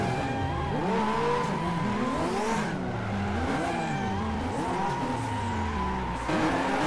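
Two Mazda RX-7 cars drifting side by side in the racing game rFactor, rotary engines revving and wailing up and down in pitch, loud and continuous with tire squeal.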